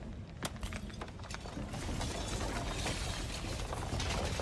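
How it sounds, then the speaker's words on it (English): Glassy shattering from the video game Slay The Princess: a sharp crack followed by a steady, dense crackle and grinding that runs on loudly without any voices. "And then, the shattering."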